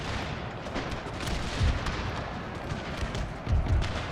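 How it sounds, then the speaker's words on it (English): Cavalry pistol volleys in Total War, a 30 Years War battle game, sound as a dense rumbling crackle of distant gunfire, with two heavier thumping bursts standing out over the steady battle din. "We're gonna fire a bit of pistol"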